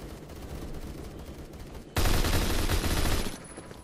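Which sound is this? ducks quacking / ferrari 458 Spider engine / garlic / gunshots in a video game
gunshots in a video game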